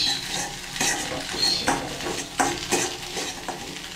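Filling ingredients frying in a pan with salt, a steady sizzle broken by several scraping stirs and clinks of a utensil against the pan, close and moderately loud with no talk.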